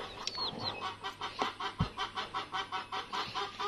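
A mother hen with her four chicks in a backyard coop clucks in a steady, rhythmic series of soft calls, with a few brief higher chirps mixed in, fairly quiet and close.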